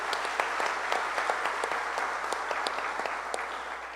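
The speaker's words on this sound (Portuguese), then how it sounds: "Vamos dar uma salva de palmas para esses irmãos queridos." A church conference audience breaks into sustained applause, a dense steady wash of many hands clapping from start to finish with no voices over it.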